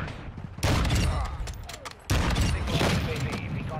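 Rapid AK rifle fire in Modern Warfare 2 multiplayer, loud dense bursts near the listener with battle noise throughout and a pause before a second sustained volley, with a player talking over it.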